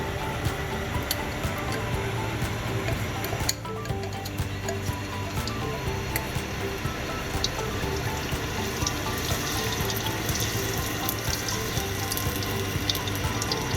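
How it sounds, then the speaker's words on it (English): Sambal chilli paste fries in six tablespoons of hot oil, giving a loud, continuous sizzle and crackle with scattered pops that keeps going steadily throughout, with no talking. "I have added 6 tablespoons of oil. I'm adding the paste."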